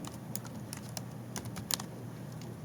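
Someone types on a computer keyboard, a quiet, steady patter of irregular keystrokes with a few sharper clicks, close by and without any talking.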